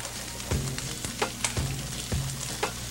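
Green tomatoes frying in a pan, a soft steady sizzle broken by several low scraping stirs and a few sharper taps, all close up with no talking.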